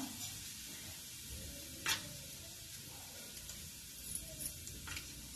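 Cumin seeds and whole spices sizzle in hot oil with a steady, crackling hiss and a few sharp pops, heard up close and alone.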